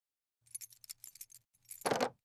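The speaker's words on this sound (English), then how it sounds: "Bring the keys." A bunch of keys jingles close by in a rapid series of light metallic clinks, then a fuller burst of jangling at the end, with a faint low hum underneath.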